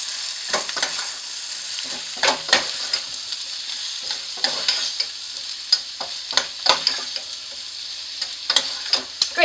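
Home fries and onions being stirred in a frying pan in a tiny house kitchen, steady close sizzling broken by repeated sharp scraping strokes of the spatula, with no talking.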